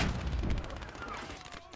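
Dense gunfire in the World War II strategy game Call to Arms Gates of Hell on the Eastern Front, a loud continuous rattle of rapid shots and blasts with no break.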